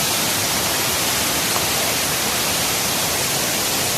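Floodwater overflows a river embankment in a village during flooding in North Aceh, a loud, continuous broadband roar of rushing water with no pauses and no voices.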